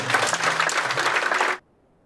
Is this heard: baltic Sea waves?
no